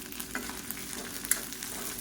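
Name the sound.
sautéing shallots, garlic and dried red chillies in a pan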